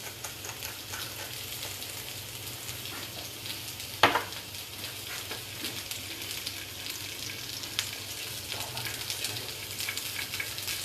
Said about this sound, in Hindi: हम सीधे अपनी इन सब्जियों को इसमें डाल देंगे।